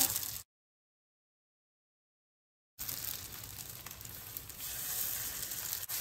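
Appe batter, made with soda, sizzles softly in an appe pan over a low flame, a faint, continuous crackle that starts after a short stretch of dead silence.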